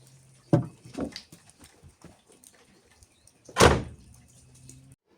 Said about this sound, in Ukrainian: закриваю дверь